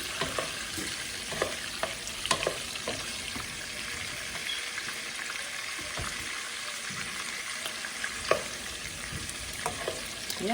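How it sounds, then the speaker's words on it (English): Vegan sausage sautés in hot oil for a gumbo, giving a steady, close crackling sizzle broken by scattered clicks and scrapes of stirring, with no talking. "So we're gonna saute that. Saute that until it's ready."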